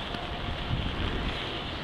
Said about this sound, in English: We're still getting that rain coming down sideways, and we keep getting these gusts of wind that comes through every once in a while.